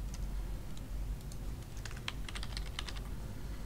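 Typing on a computer keyboard while entering a new email password, quiet close key clicks, sparse at first and then a quick burst of taps, over a low background hum.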